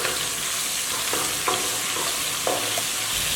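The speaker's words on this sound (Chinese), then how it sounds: "锅内留底油，加1小勺的牛肉酱，再放入几片蒜片炒香。" Garlic slices stir-fried with a spoonful of beef sauce in hot oil in a wok, a steady close sizzle with several scraping stirs of a spatula, no voices.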